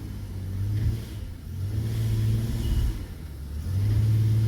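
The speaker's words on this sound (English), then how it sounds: "All right, I'm revving up." A car engine with a cylinder 4 misfire revs hard in drive on a slick shop floor, rising in repeated surges with a rough, uneven rumble up close and no talking.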